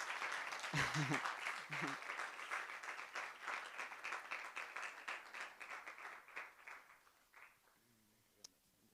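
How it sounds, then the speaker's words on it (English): Masterclass audience gives a welcoming round of clapping for a professor, fairly distant and soft, with a few voices early on; the applause fades gradually and ends with a single sharp knock. "let's clap hands for Prof. Gosha"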